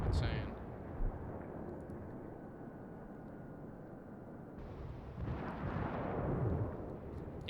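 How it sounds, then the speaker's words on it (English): Battleship shells exploding in the naval combat game World of Warships, as a fleet pounds a lone battleship: a dense, continuous roar of blasts and rumble that swells again near the end. "He's getting the crap shelled out of him."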